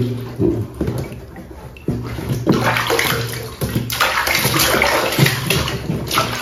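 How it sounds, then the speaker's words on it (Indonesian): Water splashes and sloshes close up as the crown of a dirty Ondel-Ondel puppet is washed, with bursts of running, pouring water and intermittent splashes, loud and near, and no talking over it. "Sekarang mahkotanya kita cuci."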